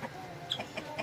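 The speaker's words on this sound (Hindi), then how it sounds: "इसका मुर्गा भी आ गया, अब ये दोनों मिल के खाएँगे जी" A hen and rooster peck at scattered pieces of roti, giving a few short, soft clucks at a steady, unhurried pace against quiet farmyard background, with no voices.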